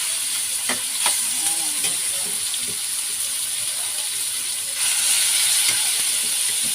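Pork adobo, browned pork pieces returned to the frying pan, sizzles with a steady bright hiss throughout, with a few soft stirring knocks and a louder surge of sizzle near the end.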